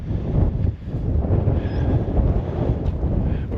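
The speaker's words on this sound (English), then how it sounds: "It's gotten cloudy and cold and stayed windy this afternoon." Cold wind gusts across a desert railroad track on a cloudy afternoon, buffeting the microphone with a steady low roar and irregular rumbling surges, no speech.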